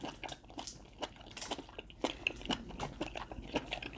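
Close, crisp crunching and wet chewing of colossal shrimp during a mukbang eating show, irregular bites and squishy mastication repeating quietly with no talking.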